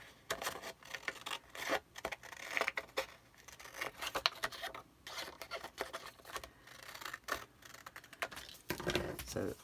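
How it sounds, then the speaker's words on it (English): Folio album paper being cut along tick marks with scissors, giving soft intermittent snips and paper rustles close by, with quiet talk in between. "Now you're just going to cut that off."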